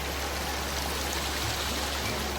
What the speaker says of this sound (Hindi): अभी झरने के पास में यहाँ बैठे हैं